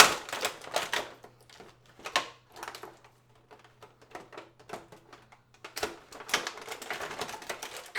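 Tape ripped and peeled off the packaging of a Beast Wars Masterpiece MP-41 Dinobot toy: sharp crackling tearing bursts come in irregular spurts separated by short quiet gaps, close and fairly loud.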